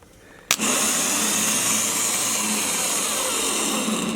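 A Jeep Wrangler starter motor, cleaned and freed from a seized solenoid, spins on a bench test after a sharp click, then settles into a loud, close, steady high-pitched whir that runs without a break.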